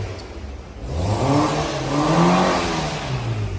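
Close engine of a Fiat Albea 1.4 with a crankshaft and camshaft position sensor fault, running steadily and then rising into a revving swell and falling back, a whirring hum with no talk over it.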